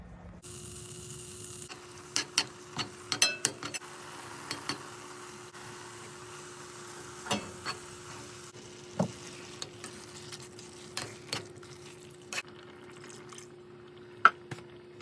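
Dinner cooking in a pan on a home hob, with quiet sizzling under a steady electrical hum and scattered clicks and taps of a utensil against the pan.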